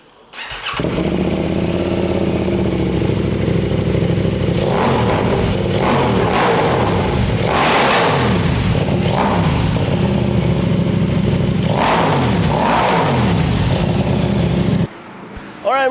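A CFMoto 800 MT motorcycle engine runs loud and close for about fifteen seconds, with several sharp revs rising and falling over a steady idle before it cuts off near the end.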